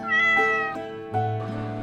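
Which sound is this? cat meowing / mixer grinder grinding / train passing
cat meowing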